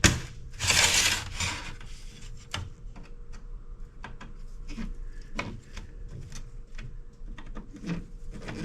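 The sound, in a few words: loosening jammed screws on a peripheral board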